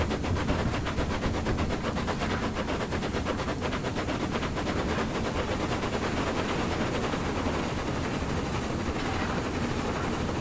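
V2 steam locomotive with a damaged cylinder, running on the Woodhead Line, gives a loud, continuous rapid chuffing and clattering beat that stays steady and close for the whole stretch, with no talking.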